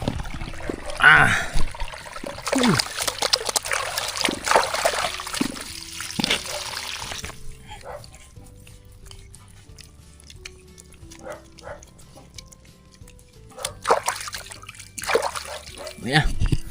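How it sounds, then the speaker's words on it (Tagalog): Water gushes and splashes loudly on a coconut farm, strong at first and then easing to a trickle before surging again, with people talking and a dog barking in between. "Grabe tubig oh. Lakas."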